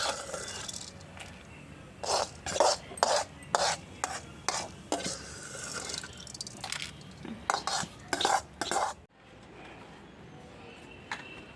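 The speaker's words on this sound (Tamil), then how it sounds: "அந்த இலையும் நல்லா எண்ணெயில் வறுத்துடணும்" Thoothuvalai leaves frying in oil, marked by repeated clacking stirs of a spatula against the pan over a low sizzle, ending abruptly near the close.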